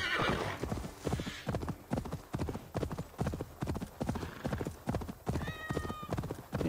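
A horse gallops and neighs in Assassin's Creed Valhalla, its hoofbeats pounding in a steady, close rhythm throughout, with a whinny rising near the end.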